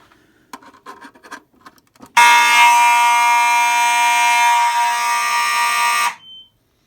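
A fire alarm system goes into alarm during a detector test, opening with a few faint clicks and buzzes, then blaring a loud, steady electronic tone for about four seconds before cutting off abruptly.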